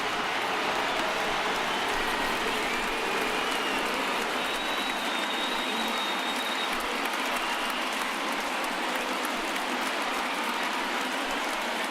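A stadium crowd of around 34,000 fans cheers in the MLB The Show 19 baseball video game, a dense, continuous roar with no break.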